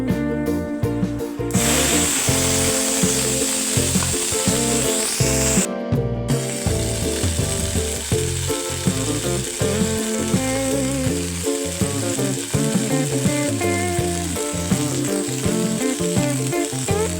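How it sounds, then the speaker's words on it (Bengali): Panch phoron spices hit hot oil in a kadai while a vegetarian borboti posto dish is being made. The spices give a steady, crackling sizzle that runs continuously, with two short breaks near the start. "এখন আমি ফোড়নে দিয়ে দিচ্ছি 5 ফোড়ন।"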